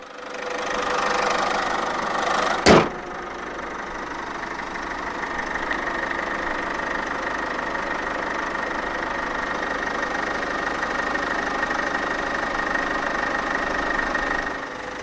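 A 2015 Peugeot 3008 1.6 BlueHDi 120 diesel idles after start-up: one sharp click, then a steady close, clattering diesel idle with a faint knock runs on alone.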